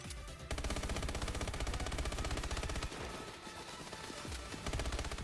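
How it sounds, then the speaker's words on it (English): Rapid automatic gunfire from Call of Duty: Advanced Warfare, a dense stream of shots aimed at the ground, loud and nearly continuous with a brief gap at the start. "Come on, shoot all the ground. Just shoot it all."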